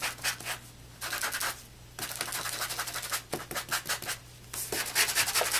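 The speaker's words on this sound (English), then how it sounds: "So again, you're going to sand these." Die-cut pieces being sanded by hand, giving close, rasping rubbing strokes in short bursts separated by brief pauses.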